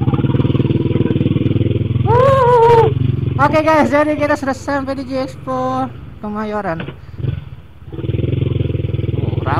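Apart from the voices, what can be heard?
many motorcycles at an expo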